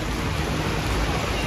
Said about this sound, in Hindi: देखो यार बारिश की स्पीड देखो कितनी हो गई, रोड में पानी देखो बुरी हालत हो गई।